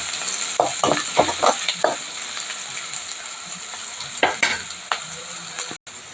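Ingredients sizzle loudly in a pan at close range, with a run of quick spatula scrapes and taps early on and a few more later, ending in an abrupt cut-off.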